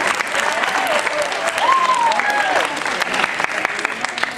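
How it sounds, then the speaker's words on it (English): Town hall audience applauding a taco restaurant, steady crowd clapping throughout with a brief whistle and some voices mixed underneath. "So let's give Taquerias Arandas a round of applause."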